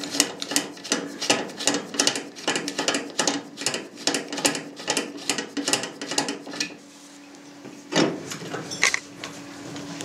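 Sausage stuffer being unlocked and its piston raised, a rapid series of loud ratcheting clicks cranked close by, pausing briefly, then a heavy clunk and a few more clicks.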